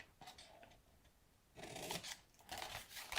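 Scissors snip through card stock up to a score line while a summer tag box is made, several close crisp cuts that grow louder and longer toward the end.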